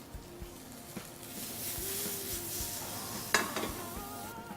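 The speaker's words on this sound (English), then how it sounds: "we're just sautéing off these lovely spring onions, just in some vegetable oil" Spring onions sauté in vegetable oil with a soft, steady sizzle, broken by the light scrape and clink of a utensil stirring the pan and one sharper knock near the end.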